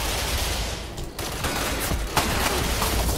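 In the third-person shooter Ghost Recon Phantoms, a dense burst of automatic gunfire rattles continuously against a noisy background, with no clear talking.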